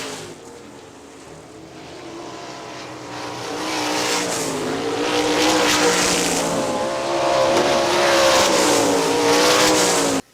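Stock race cars roar down the back straightaway on the final lap at a short-track oval, engines loud and close with rising revs and overlapping motor drones building as the pack passes, tires faintly squealing.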